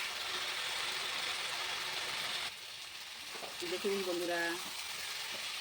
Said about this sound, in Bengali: এবার আমি চিকেনটা, ম্যারিনেট করা চিকেনটা দিয়ে দেবো। দিয়ে ভালো করে কষিয়ে নেব।